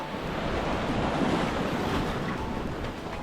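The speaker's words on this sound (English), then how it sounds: "the tide is on its way in" Ocean surf washes steadily over a tide pool as the tide comes in, a continuous broadband roar of water with wind buffeting the microphone throughout.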